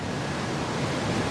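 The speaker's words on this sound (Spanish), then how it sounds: "El río está arrasando con la orilla." A rushing, flooded river eroding its bank after heavy rain roars as a loud, dense and unbroken wash of turbulent water, with nothing else standing out.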